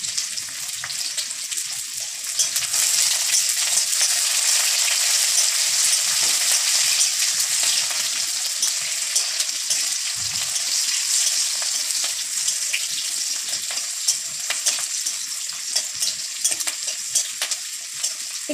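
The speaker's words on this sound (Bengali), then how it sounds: "তারপরে দেব পেঁয়াজ, এইবার দেবো কটা চেরা কাঁচা লঙ্কা" Onions and slit green chillies fry in oil for a drumstick-leaf dish, a steady loud sizzle running throughout with occasional utensil scrapes and clinks from stirring, and no speech.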